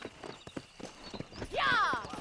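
Horse hooves clip-clop in Red Dead Redemption, a steady run of quick close beats that builds into a louder rush of horse movement near the end, with speech over the top.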